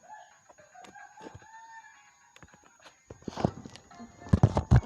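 Short chirps and clucking bird calls from a game, followed by thumps and bursts of impact noise growing louder toward the end.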